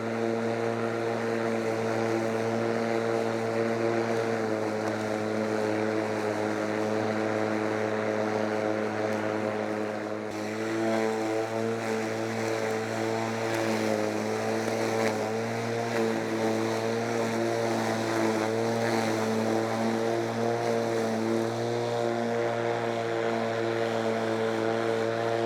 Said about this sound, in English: The mower is doing a really great job of cutting my lawn.